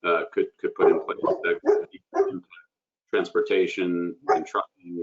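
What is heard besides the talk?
dog barking in the background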